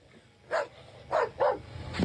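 A dog barks four times in quick, uneven bursts, moderately distant over a quiet background.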